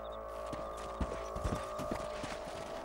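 Horse hooves clip-clop in a steady trot over a constant synthetic hum, with an even, game-like rhythm, in the video game Red Dead Redemption.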